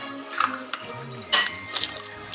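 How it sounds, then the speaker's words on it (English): Eggs are cracked in a home kitchen while preparing a Christmas main course with full-fat milk, giving a few sharp light knocks and clinks against a bowl, close and distinct. "first we're going to crack the eggs"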